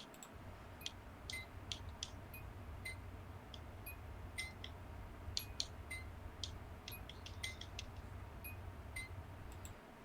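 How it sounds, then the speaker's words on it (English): A Nissan 240SX door chime: a string of short, high electronic chime tones repeats irregularly over a steady low hum, moderately quiet and continuous throughout. "10 minutes of 240SX door chime"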